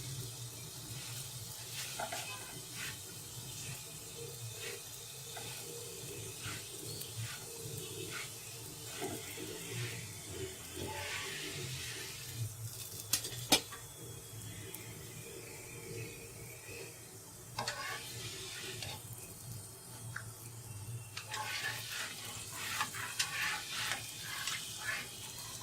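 Potato paratha fries in ghee on a pan, giving a steady soft sizzle with small crackles and scrapes as it is moved with tongs, while a faint low hum runs beneath.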